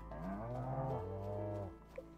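A cow mooing in Stardew Valley, one long, close, clear low moo with a falling drawn-out tone, followed by a faint short chirp.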